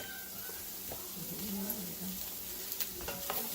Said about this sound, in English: we're gonna saute these onions until they're translucent